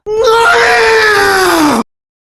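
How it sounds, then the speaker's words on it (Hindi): A man lets out a loud, sustained death scream in a dramatized horror story, one long anguished cry that bends downward in pitch before cutting off abruptly into silence. "हलक फाड़कर चीखा भैरवा।"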